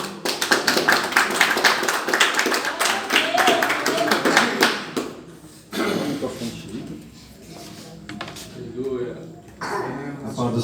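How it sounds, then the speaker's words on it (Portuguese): Congregation clapping in praise at a church service, a dense burst of hand claps that stops about halfway through, after which scattered taps and coughs continue under talk. "Servo do Senhor com as palmas para Jesus."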